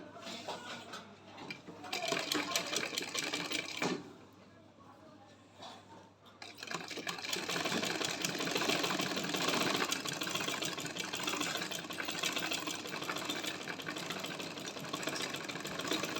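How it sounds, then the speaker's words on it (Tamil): A sewing machine stitches a doubled folded hem on panties in a tailoring lesson, running steadily with a whirring mechanical drone. It pauses briefly partway through, then resumes and runs continuously at close range. "இந்த மாதிரி ரெண்டு மடக்கு மடித்து தைச்சிருக்கோம்"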